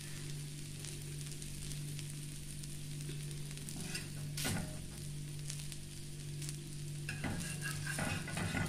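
Vegetable ragi dosa cooking in oil on low heat, a steady close sizzle and crackle with a constant low hum beneath and a couple of brief scraping touches, no talking.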